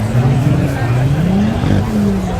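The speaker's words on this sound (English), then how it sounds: "Still hear that GT40." A Ford GT40 engine running at an evening classic car meet, a loud steady roar with shifting pitch that fills the whole moment, close and continuous.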